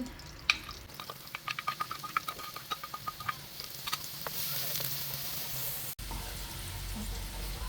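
Onion sautéing in melted butter in a pan while cooking carbonara, a steady soft sizzle with a run of small crackles and stirring clicks early on, close and moderately loud.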